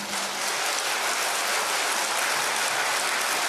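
Dense, steady applause from a large crowd at a 2010 mass religious rally in Seoul, a continuous roar of many hands that stays loud and even for the full stretch with no voices over it.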